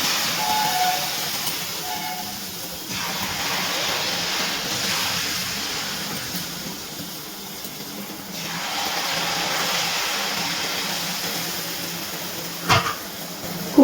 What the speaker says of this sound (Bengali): এক করে জিলিপিগুলো ভেজে নিচ্ছি।